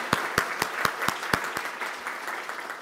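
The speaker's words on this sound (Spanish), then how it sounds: "si me permiten solicitarles un aplauso para todos nuestros maestros" At a nursing graduation ceremony for a palliative care diploma, a close, steady run of about eight loud handclaps rings out over softer crowd applause that thins toward the end.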